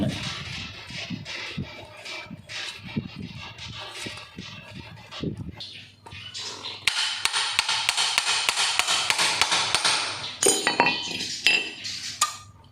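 Metal strikes ring out in a loose rhythm as a spring part is hammered out of an old, long-unused motorcycle, with bright clinking blows that grow denser and louder in the second half.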